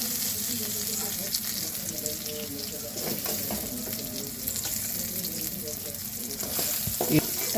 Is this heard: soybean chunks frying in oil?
yes